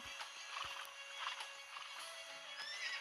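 A horse whinnies faintly in a stable in The Sims FreePlay amid a low ambient hum, with a few soft hoof clops and stable noises in the background.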